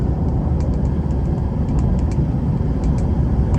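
Steady, loud car engine drone from inside the cabin while the driver shifts back to fourth gear, with faint clicking from the controls over the continuous road rumble.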